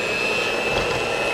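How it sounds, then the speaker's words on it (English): A stand mixer beating cream toward soft peaks gives a loud, steady motor whine with a constant high tone over a churning, whirring drone, running without pause. "I have a mixer, and I'm just gonna turn it on and start beating it until I get some soft peaks"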